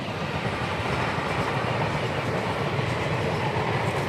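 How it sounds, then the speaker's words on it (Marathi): A train runs along a railway near a university campus on the line toward Nanded, its steady, loud rumble and rolling wheel noise filling the whole stretch without a break and with no voices. "रेल्वे चालू"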